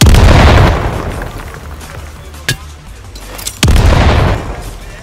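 Booming explosions sound in Battalion 1944 on the Manorhouse map, with a loud deep blast at the start and another near the end, and a short sharp pop between them.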